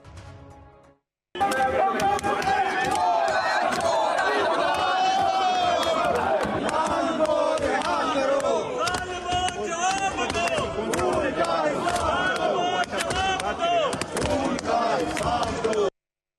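Opposition lawmakers in Pakistan's National Assembly shout and chant in a loud, continuous uproar, many voices clamoring at once with banging, after a brief quieter moment at the start.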